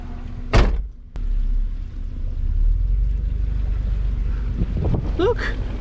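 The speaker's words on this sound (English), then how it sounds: "You open the door and we're like really close." A Toyota Tacoma truck's door opens while the truck sits deep in river water, giving one sharp thump and a quick click early on, followed by steady rushing wind and water noise.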